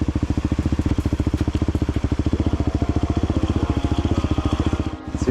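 A cheap Walmart 250cc EFI dirt bike engine putters in a steady, fast single-cylinder thump close by, running evenly throughout with a brief dip near the end as a gear change is attempted.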